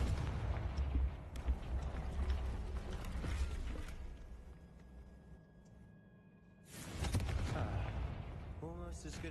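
The Confringo spell goes off in the video game Hogwarts Legacy, a rumbling blast that swells after a brief lull over a constant bed of game ambience and mechanical creaks.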